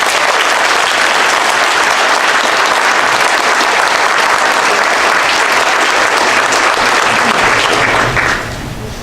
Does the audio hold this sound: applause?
yes